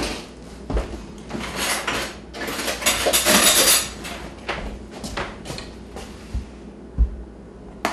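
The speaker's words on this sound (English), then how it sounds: "I'm going to get a knife to spread this." Metal knife scraping and spreading a lumpy Mississippi mud topping across a dessert in a home kitchen, a run of close clinks and smears rising to a busier middle stretch, then a few sharp taps near the end.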